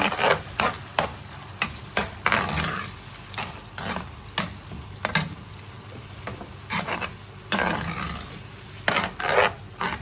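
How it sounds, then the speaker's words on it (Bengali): A chicken masala pasta sauce with tomato ketchup and cream being stirred in a pan: repeated close clinks and scrapes of a spoon against metal over a soft, low sizzle. "এখন আমি একটু নাড়াচাড়া করে নিচ্ছি"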